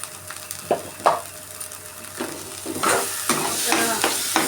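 Kumro pata bharta, a pumpkin-leaf mash with salt and turmeric, fries in a pan while being stirred, giving a steady close sizzle broken by repeated scraping swishes that grow louder toward the end.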